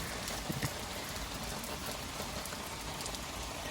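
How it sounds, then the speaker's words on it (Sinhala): Rain starting to fall at Mandaramnuwara camping resort, a dense, even hiss of drops on surfaces that stays loud and constant from start to finish. "දැන් මේ අද තමයි වැස්ස පටන් ගන්න තියෙන්නේ."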